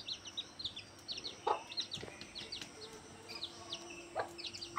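Small yellow chicken chicks cheep in a damp room, with quick high peeps scattered in short bursts and a few lower clucks, faint and fairly close.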